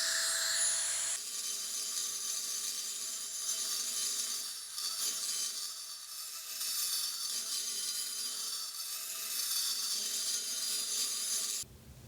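Nakanishi Emax EVOlution micro-grinder with a burr cleaning up a ragged part, a steady high-pitched whine with grinding rasp that starts abruptly, runs continuously and cuts off near the end.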